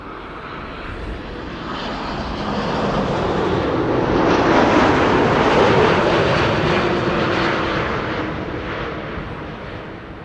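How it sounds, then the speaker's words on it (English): An Air Canada Boeing 787 Dreamliner arriving from Toronto at Amsterdam Schiphol: a smooth jet whoosh rises as the airliner approaches, holds loud overhead, then tapers off, with no voices. "This is Air Canada flight 808 arriving from Toronto."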